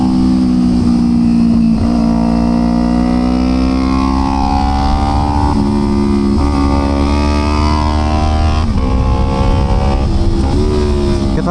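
A Kawasaki Ninja 250 racing around the Sentul Karting circuit gives a loud, close engine howl whose pitch climbs and drops sharply with each gear change and corner.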